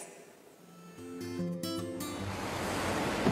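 Waves wash against the shore of Lake Tiberias (the Sea of Galilee) in a steady broadband surge that builds gradually. Brief tonal sounds rise over it partway through.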